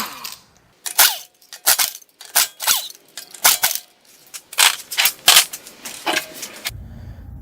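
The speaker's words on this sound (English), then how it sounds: "So we're going to take this wheel off, 22 millimeter" Lug nuts loosened on a rear wheel of a Honda Odyssey 3.5L VTEC, a series of loud, sharp, close bursts, about a dozen in irregular rhythm, like an impact tool rattling the 22 mm nuts free.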